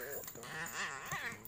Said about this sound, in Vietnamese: Chó cỏ nhìn thế thôi nhưng mà chó cỏ không đùa với nó đâu, dữ phết đấy.